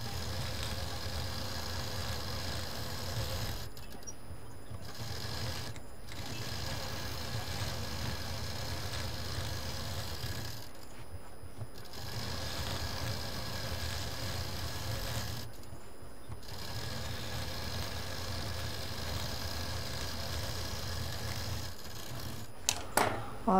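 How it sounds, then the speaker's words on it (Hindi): A sewing machine runs a line of stitching around the edge of a patchwork quilt, about half an inch from the border, a steady mechanical whir with several brief pauses between runs. "यहाँ से एक चाप की दूरी पर एक मशीन चारों तरफ और चला देंगे"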